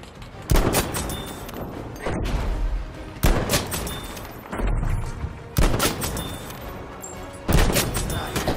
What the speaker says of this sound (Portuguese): tem vagabundo me atirando